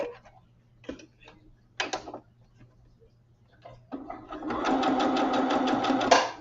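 A sewing machine stitches in a brief burst, pauses amid quiet handling clicks, then runs in a longer, steady, close-up whir of rapid needle strokes for about two seconds.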